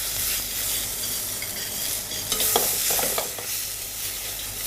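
Grapefruit trimmings sautéing in a pan with bird's eye chili and Timut pepper, a steady close sizzle broken by a few scraping stirs of a utensil near the middle.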